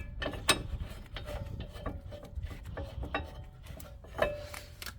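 A brake caliper bolt threaded by hand on a 2019 Ford Transit Connect during a rear brake pad and rotor job, a close string of small metallic ratcheting clicks and scraping turns with a faint ringing tone, no voices.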